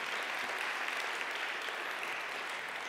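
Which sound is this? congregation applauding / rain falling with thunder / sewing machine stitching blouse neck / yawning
congregation applauding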